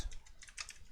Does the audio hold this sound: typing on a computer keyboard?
yes